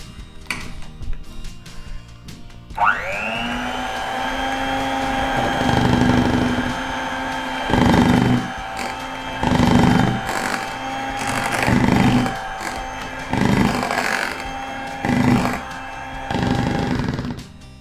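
An electric mixer beating cream for tiramisu starts up after a short quiet spell and runs with a steady high whine, broken by regular louder bursts of clattering as the beaters work the bowl.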